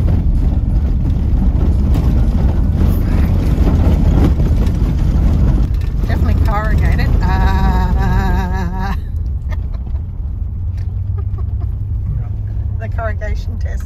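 A car engine runs steadily while driving, a loud continuous low rumble with road noise throughout and brief higher mechanical tones partway through.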